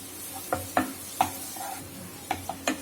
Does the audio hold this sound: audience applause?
no